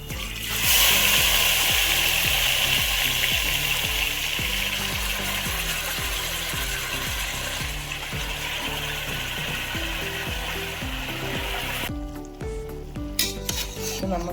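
Marinated chicken mixed with coriander leaves, pepper powder, garam masala and other spices sizzles steadily in hot oil, a loud continuous fry with a rhythmic stirring scrape throughout and a few clinks of the pan near the end.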